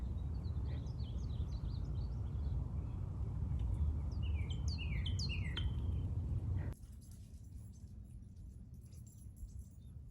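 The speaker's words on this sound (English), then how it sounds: "There's a bird playing in the window of the car." A small bird pecks and flutters at a parked van's window mirror, giving quick bright chirps and tapping clicks over a constant low rumble; the rumble cuts out abruptly partway through, leaving a quieter background.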